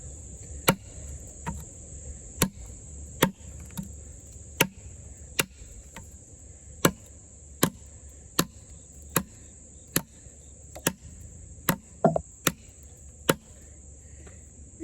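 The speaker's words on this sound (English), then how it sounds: "you could see it's just chipping away at this" A budget Bowie knife, a Busse clone in 5cr15 steel, chops into wood in a steady series of sharp, fairly close strikes about one per second, with a constant insect-like hum running underneath.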